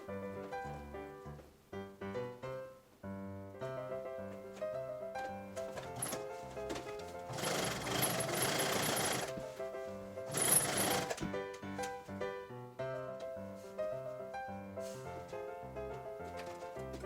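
A sewing machine stitches yurt canvas in two short mechanical bursts of rapid whirring, heard close over a steady background of music, with quieter fumbling between runs.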